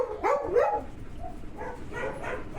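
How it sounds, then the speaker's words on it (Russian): A dog on a shore yelps and barks in a few quick, close, strained bursts, followed by softer whimpering cries against outdoor background noise. "Вот эта собачка долго сидит на одном месте"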